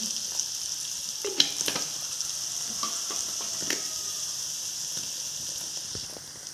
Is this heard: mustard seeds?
yes